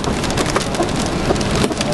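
Hail pelting down during a severe storm near Howard Lake, with stones three-quarters of an inch or larger battering surfaces in a dense, continuous loud clatter and roar, like heavy rain on hard surfaces.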